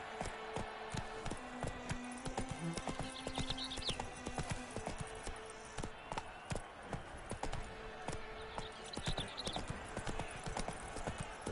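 Roach, the horse from the game The Witcher 3, gallops in a rapid, steady clip-clop of hooves that continues throughout, with a brief whinny and faint voices in the background.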